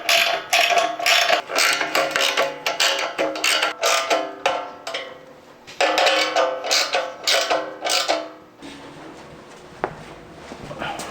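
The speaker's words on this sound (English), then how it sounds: "We're going to take one of these tapping screws, self-tapping screws, in a 1/4-inch socket." Ratchet with a 1/4-inch socket driving self-tapping screws into a Jeep JL Wrangler front bumper, giving rapid close clicking runs in bursts, pausing near six seconds, then fading into softer handling noise.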